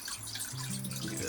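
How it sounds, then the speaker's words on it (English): Steady rushing water with a continuous hiss and gurgle, close by, as water leaks into the hull of a sailing boat. "You see water pissing into the boat?"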